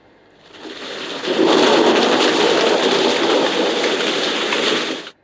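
Thunder sound from the Sleepo relaxation app, a steady loud rumbling roar mixed with rain-like hiss that swells in over a second, holds evenly, then cuts off abruptly.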